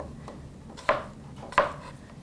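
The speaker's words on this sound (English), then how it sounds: "So we're almost done chopping our apples." Knife chopping through apples on a cutting board, with two distinct sharp chops about two-thirds of a second apart over a quiet kitchen background.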